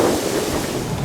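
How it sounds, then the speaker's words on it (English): Strong wind gusts buffet the microphone at a public narrowboat mooring on the river near Bourne End, a loud, rumbling rush that stays continuous for about a second with no talk. "it's very windy"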